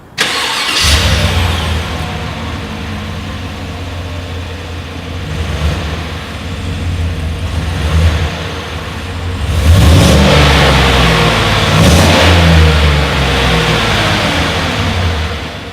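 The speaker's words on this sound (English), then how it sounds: "As always, here is that exhaust clip." A 2020 Chevrolet Tahoe SUV's engine catches and revs through its exhaust, a loud, steady rumble with repeated throttle blips that swell near the end, close by with no talk.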